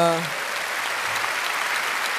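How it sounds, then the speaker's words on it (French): A studio audience on a live French TV show applauds latecomers, dense steady clapping that carries on evenly, with a voice briefly audible at the very start. "faut applaudir les retardataires quand même"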